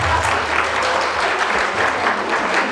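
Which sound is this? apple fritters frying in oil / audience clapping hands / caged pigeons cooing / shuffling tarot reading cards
audience clapping hands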